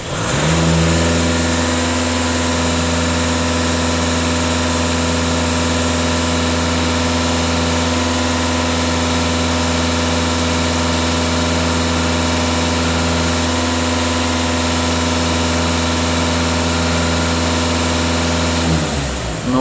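A Volkswagen Passat B8 engine runs steadily and loudly close by, a continuous mechanical drone with a low hum and a faint whine, held at a raised, even speed throughout with no voices.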